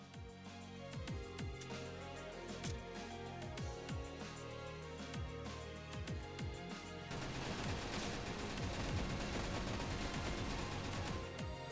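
Rapid multi-missile weapon fire in the video game Snezhinka: Sentinel Girls 2, a dense stream of sharp launch bursts over game music, thickening into a continuous roaring barrage in the last few seconds.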